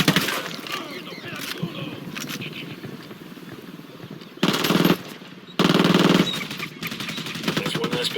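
Gunfire in the video game Ghost Recon Wildlands: steady rapid automatic bursts rattle on through the whole stretch, with two louder, denser volleys standing out partway through, all fairly close and without talk.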